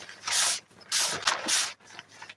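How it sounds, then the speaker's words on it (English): A disinfectant aerosol sprayed inside a clothes bag, three short hissing bursts close up with a softer puff at the end. "Like I said, we don't want to spray directly on the clothes. We'll spray inside the bag."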